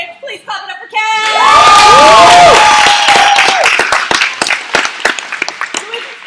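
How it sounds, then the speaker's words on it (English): A live workshop audience bursts into loud, sustained cheering, whooping and clapping after a first-time speaker leaves the stage, swelling quickly and then settling into scattered claps and shouts. "Please clap it up for Cash!"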